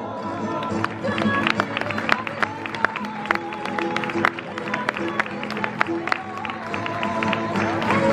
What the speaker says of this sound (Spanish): lo vamos a recibir con un fuerte, con un fuerte aplauso